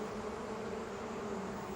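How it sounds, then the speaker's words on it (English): Bees buzz steadily around a warm steam engine's boiler, a continuous close hum with a sharp burst at the very end. "they buzzed around the fireman hoping he'd mend their hive"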